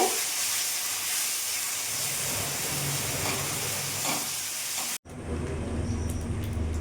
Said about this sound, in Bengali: আমি এইভাবে নেড়ে চেড়ে ভাজা ভাজা করে নেব